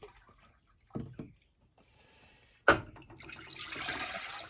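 Water poured into a cooking pot on a camp stove, four cups measured for a Readywise meal; a few soft knocks come first, then a steady splashing pour builds in the last second and a half, moderately close with no talk.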